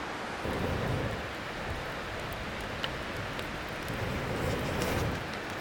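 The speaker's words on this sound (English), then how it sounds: "we know that there's a waterfall right next to us" A waterfall beside a night campsite produces a steady, dense rushing wash, continuous and moderately loud with slight swells, alone without voices.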